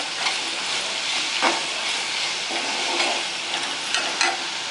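A ladies finger (okra) masala curry cooks in a pan with a steady, close sizzling hiss and occasional soft stirring scrapes throughout.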